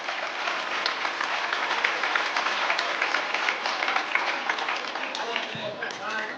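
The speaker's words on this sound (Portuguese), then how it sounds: "Você pode dar uma salva de palmas para a Margarete?" An audience in a church applauds steadily, dense clapping sustained throughout at moderate loudness, with faint voices mixed in.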